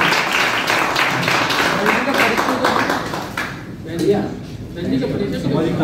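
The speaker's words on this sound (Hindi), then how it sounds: "जोरदार तालियां" Applause from an audience at a ceremony honouring women, a dense patter of clapping that fades and swells, with a voice speaking over it.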